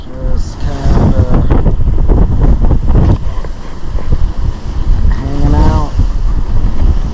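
Steady wind rushes over a sailboat far out at sea off Baja, Mexico, with water noise beneath and someone talking briefly over the constant gusting.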